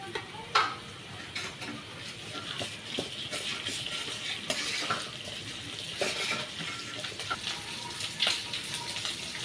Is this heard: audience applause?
no